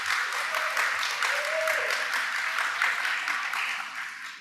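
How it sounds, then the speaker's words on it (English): A convention hall audience at a discussion with political and community leaders gives a sustained round of applause, a dense wash of clapping that holds steady and then tapers off at the end. "Let's give ourselves a round of applause."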